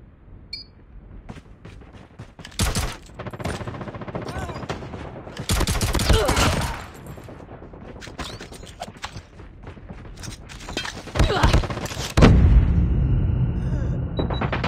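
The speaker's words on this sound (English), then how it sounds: "Guns blazing." Gunfire in the mobile shooter game Call of Duty Mobile, with loud bursts of rapid shots and fusillades in uneven clusters over a continuous game soundscape.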